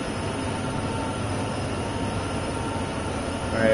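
A train rolls past on the Sherman Hill route in Train Sim World 2 on PS5, giving a continuous loud rumble of wheels on rails with faint squealing that swells near the end.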